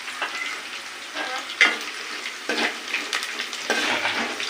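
Onions sizzle and fry in a pan, with bursts of stirring and scraping from a utensil across the pan, all fairly close and without speech.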